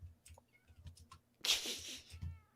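A cat meows in the Minecraft video game: one short, bright, close meow over a low background hum, with quieter game sounds around it.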